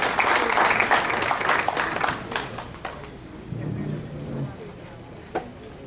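Audience clapping at an international Urdu mushaira poetry gathering, fairly loud at first then thinning and fading, with a voice briefly audible under the tail.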